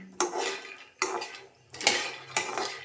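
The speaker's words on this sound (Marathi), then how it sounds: "आता आपण शेंगदाणे काढून घेऊया." Roasted peanuts scraped and tipped out of a pan for nutritious laddoos, giving four separate clattering bursts of metal utensil against cookware, each a sharp scrape fading away, close and fairly loud with no talking.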